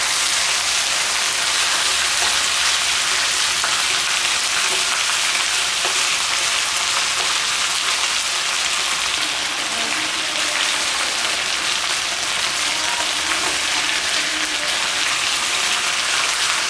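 Onion frying with lamb chops in fatty oil in a pan, a dense, loud, continuous sizzle and crackle that stays steady throughout, close up and without any talking.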